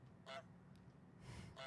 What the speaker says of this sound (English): We just try honking.